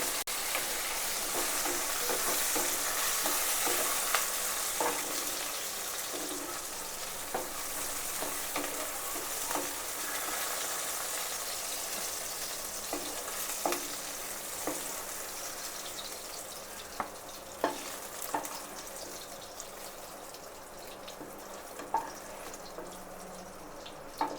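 Ingredients for a Hyderabadi paneer curry fry and get stirred in a pan: a steady close sizzle runs throughout, broken by scattered scraping and clinking stirs, with no talking.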